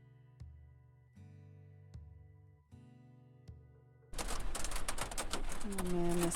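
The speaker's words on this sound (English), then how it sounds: "Sounds like hail." Hail pounds a camper roof during a thunderstorm while camping, arriving suddenly as a loud, dense, continuous patter after a few seconds of quieter, evenly spaced tonal pulses.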